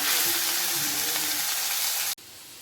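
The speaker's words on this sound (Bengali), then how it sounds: "চিংড়ি আমার হালকা করে ভাজা হয়ে গেছে" Prawns coated in turmeric and salt fry in hot oil with a steady, bright sizzle that stops abruptly near the end.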